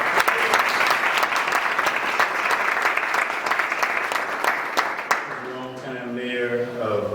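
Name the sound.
audience applause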